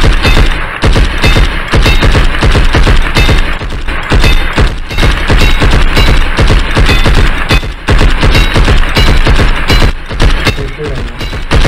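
Fireworks in the video game Blood and Beacon crackle as a dense, rapid string of loud bangs and pops, continuing almost without pause for about twelve seconds.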